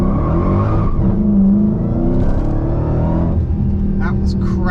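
A Dodge Challenger Hellcat Redeye Super Stock launches in a 0-60 run, its deep engine roaring as revs climb and drop through a gear shift, heard from inside the car with a voice over the noise.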